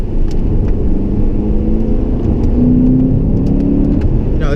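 A Lexus RC F engine hums at steady revs while driving, with a rising engine note and low exhaust rumble above 4,000 RPM, loud and close.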